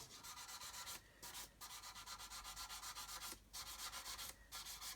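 A sanding sponge rubs steadily over a plastic part of a 1/72 Airfix Vulcan model kit, making a loud, close, continuous scratchy rasp in long strokes broken by a few brief pauses.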